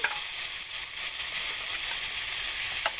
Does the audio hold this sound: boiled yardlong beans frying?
yes